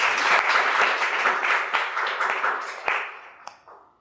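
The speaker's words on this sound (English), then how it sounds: "Please give a huge round of applause for him." An audience applauds steadily for a welcomed guest at a student event, dense clapping fading out near the end.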